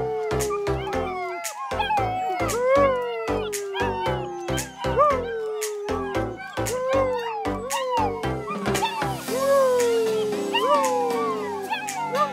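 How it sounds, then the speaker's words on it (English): Several German Shepherd puppies yip, whine and howl together in rising, wavering cries, close and fairly loud, with a dense layer of overlapping high-pitched voices throughout. "Ten puppies learning to howl."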